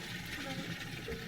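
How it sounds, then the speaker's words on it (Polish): Water runs steadily in a continuous rushing stream, loud and close, like a tub being filled. "No teraz kolejne parę godzin będziemy nalewać wodę."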